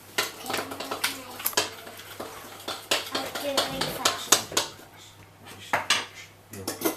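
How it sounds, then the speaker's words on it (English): Pumpkin pie filling with nutmeg stirred in a bowl: a spoon clatters and scrapes against the bowl in quick, uneven knocks, close and fairly loud, with voices talking over it. "Put some nutmeg in. Give that a good stir."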